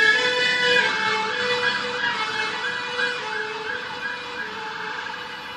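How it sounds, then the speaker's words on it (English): A fire engine siren wails in a steady rising and falling cycle outdoors, moderately loud and continuous throughout, with no speech over it. "Yeah, so fire engine."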